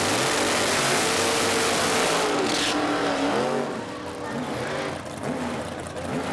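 A 1970 Dodge Charger and a naturally aspirated 1977 Ford Mustang II launching in a drag race at Lapeer International Dragway, loud engines revving with tire squeal, then the roar fading as the cars pull away, with no voices.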